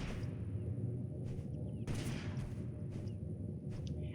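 Garand rifle gunfire in Totally Accurate Battlegrounds: several sharp shots at irregular spacing over a steady low rumble of game ambience, with no talk.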